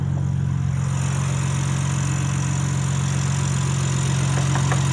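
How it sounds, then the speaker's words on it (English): A 2024 BMW M3 CS with its 3-liter S58 inline-six idling, a steady, even low hum and rumble with no revving, close and continuous, no talk. "BMW's 3-liter S58 inline 6"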